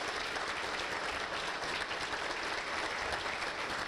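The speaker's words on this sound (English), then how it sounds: "I wish we all get Dina a good hand of a round of applause." Steady applause from a crowd at a chamber of commerce annual banquet, dense continuous clapping at a moderate distance.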